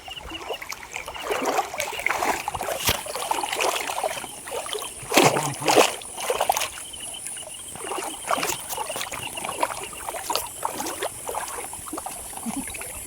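Footsteps wading through a shallow water channel between rows of trees, steady splashing and sloshing across the whole stretch with a few louder splashes midway, no talking.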